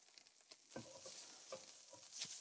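Garlic and ginger frying in doubanjiang chili bean oil in a pan: faint crackling sizzle broken by a few soft stirring scrapes, close and quiet with no voices.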